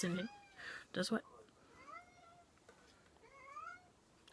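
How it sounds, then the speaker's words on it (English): A pet cat meows several times indoors, with rising and falling cries spread across a few seconds behind someone speaking briefly during a makeup review. "I'm sorry if you hear a cat in the background."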